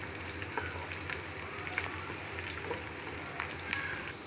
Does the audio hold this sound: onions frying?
yes